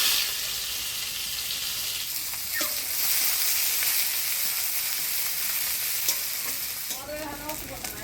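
Dry chili, bay leaf, whole cumin and chopped onion sizzle in hot oil, a steady loud frying hiss with occasional stirring scrapes and crackles running throughout.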